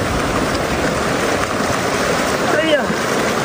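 A waterfall in a remote Xinjiang village rushes in a steady, loud broadband roar close by, with splashing as someone washes their face in it; a brief voice cuts in near the end.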